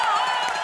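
Studio audience applause on a Hindi TV comedy show stage, a dense steady wash of clapping and crowd noise that holds loud and even for the whole short stretch, with no clear voices on top.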